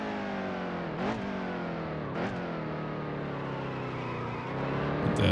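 Race car engine in the NASCAR Heat 2 video game, a loud continuous high-revving drone with two brief upshifts, then a slight drop in pitch as the car eases off, ending with a swell.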